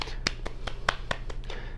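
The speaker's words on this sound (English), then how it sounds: "Let's give a congratulations and a round of applause to Nina Parker." Hand clapping as a round of applause: about eight crisp, evenly spaced claps, close and fairly quiet.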